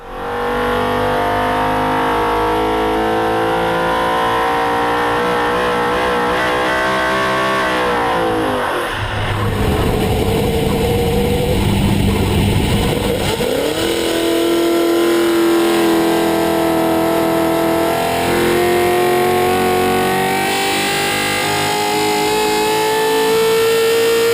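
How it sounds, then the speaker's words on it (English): A 410 sprint car engine running out of the car on a dyno, roaring loud and steady throughout, with a sharp drop and fresh climb in revs about midway before settling back into a strong, high-pitched howl. "film this 410 sprint car engine on the dyno"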